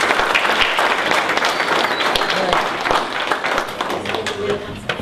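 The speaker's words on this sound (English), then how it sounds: "Let's give these students a round of applause." Audience applause at a Lee County school board meeting honoring students, a steady, dense clapping that fills the room from start to finish and tapers slightly near the end.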